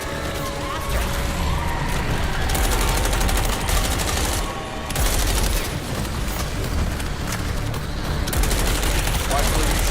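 Sustained gunfire in a video game, with dense overlapping shots and bursts forming a loud, continuous barrage over a rumbling low background, holding at steady intensity for the whole stretch.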